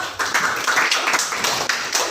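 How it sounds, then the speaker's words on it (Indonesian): Brief burst of classroom clapping for all the student groups during an economics lesson, steady and fairly close for about two seconds. "Berikan tepuk tangan untuk semua kelompok."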